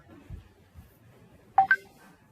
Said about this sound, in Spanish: está sonando mi WhatsApp y no sé quién me está escribiendo